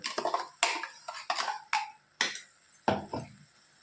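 A spoon stirs spice masala into spring onion greens in a pot, making a string of sharp metallic clinks and scrapes at an uneven rhythm, close and fairly loud, with no talking.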